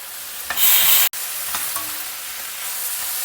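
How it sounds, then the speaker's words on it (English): Vegetables with chopped tomato and curry leaves being stir fried in a pan: a burst of loud sizzling and scraping, then a short cut and a quieter steady sizzle with faint stirring, no talk. "Now stir fry everything together for a few minutes."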